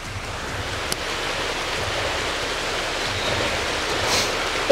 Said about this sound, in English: This is the start of the waterfall here in Gala, just falling down from the A7.